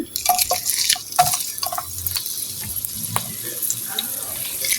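Chopped onions crackle and sizzle in hot oil, with scattered pops and spatters and the occasional scrape of stirring, close and fairly loud.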